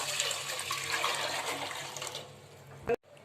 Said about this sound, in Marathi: इथं मी जेवढं पीठ घेतलं आहे तेवढं पाणी उकळायला टाकते